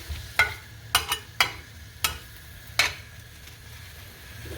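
Tomato and potato curry being stirred in a pan, with a soft cooking hiss underneath and about six sharp spoon-against-pan scrapes and clinks spaced irregularly, close by, with no talk.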